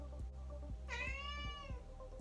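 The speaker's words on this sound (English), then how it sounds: "Sorry, cat. She's just very loud." A single loud, drawn-out meow from a pet cat rises over a low, steady background hum with faint periodic thumps.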